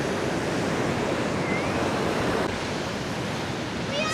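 Sea surf breaking close by near a river mouth at Sinemorets on the Bulgarian coast, a steady loud wash of rolling waves with some wind noise, no voices.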